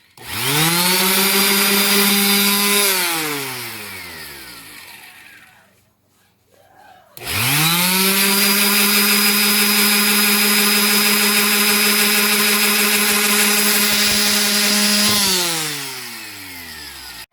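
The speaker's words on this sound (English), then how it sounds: "Now back to the sander." A power sander with sandpaper works a DIY monopod apparatus spun in a drill, giving a loud, steady motor whine that rises and falls in pitch. It cuts out briefly midway, then runs again at full strength.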